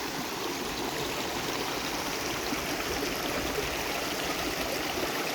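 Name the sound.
small forest stream flowing into a river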